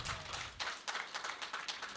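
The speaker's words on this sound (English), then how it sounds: "General needs another resounding hand clap." An audience at a Kampala event gives a resounding round of applause, steady scattered clapping from many hands sustained through the moment with no voices over it.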